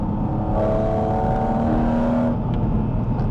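Porsche 718 Cayman GT4 RS engine while driving, a loud, sustained mechanical drone with steady tonal whine and a shifting pitch partway through, close and continuous throughout with no talking.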